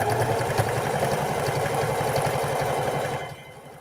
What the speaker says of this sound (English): so I could just go ahead and sew very nicely